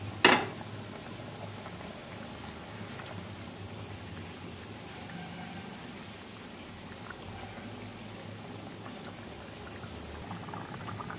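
Fish head curry bubbling in an uncovered pot, a steady soft boiling and simmering texture that holds evenly throughout after a brief clatter at the start.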